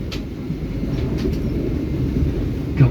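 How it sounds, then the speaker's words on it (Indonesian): The Brawijaya train rumbles steadily nearby as it arrives at Jatinegara station, with faint rail clatter and a short squeal at the end. "sesaat lagi kereta api Brawijaya akan segera tiba dan berhenti di stasiun Jatinegara"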